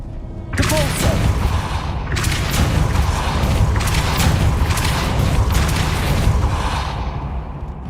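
A spell is cast in Hogwarts Legacy: a sudden loud booming whoosh bursts in after a brief lull, followed by a sustained roaring blast with repeated surges of rushing noise that fade gradually.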